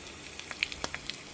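Tempering in hot oil with crushed pepper, cashews, curry leaves and asafoetida for katte pongali: faint, quick crackles and small pops scattered across a brief quiet moment.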